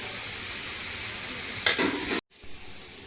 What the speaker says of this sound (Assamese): সেইকাৰণে মাজে মাজে এনেকৈ লৰাইও দিব লাগে।